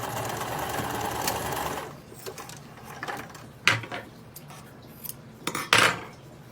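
A sewing machine stitches a fabric book bag in a steady whirring run for about two seconds, followed by scattered metallic clinks and clatters of pins and handling.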